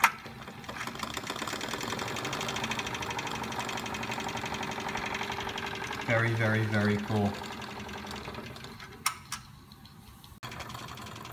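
A Wilesco D20 model steam engine runs slowly at low pressure, its valve gear giving a steady, fast mechanical ticking and clatter throughout, close by, while someone briefly talks over it.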